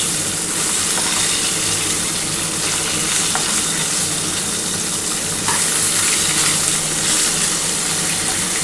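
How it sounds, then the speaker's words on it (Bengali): Pieces of rohu fish fry in hot oil, producing a loud continuous crackling sizzle close by, with occasional light clinks of a utensil in the pan. "একটু লাল করেই মাছটা ভেজেছি"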